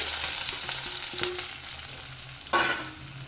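Small onions frying in a pan for a carrot and drumstick-leaf stir-fry, a steady close sizzle with a few stirring scrapes and a sharp burst near the end, no talking.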